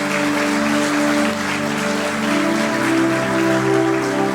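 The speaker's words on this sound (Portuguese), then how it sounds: "Vamos aplaudir o Senhor e glorificar o seu nome." A church congregation claps steadily through a service, a dense, continuous wash of applause with a sustained tonal hum of music or organ underneath, loud and even throughout.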